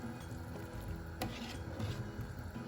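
Wonton chicken noodle soup with boiled eggs gets a quick stir over gentle heat, a soft scraping and swishing in the pot close by against a low simmer, with no voices.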